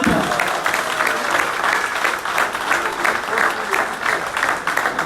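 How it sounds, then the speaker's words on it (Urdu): An audience at a Pakistani political speech by PTI minister Shehryar Khan Afridi breaks into sustained, dense clapping that stays loud and even throughout. "آخر میں اپنے آپ کے لیے تالیاں بجائیں"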